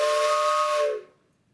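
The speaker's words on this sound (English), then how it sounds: "So I blew the whistle last time, but in honor of these folks, I got to blow it one more time." A caboose steam whistle blown once, a loud hissing tonal blast held about a second before tapering off quickly into quiet.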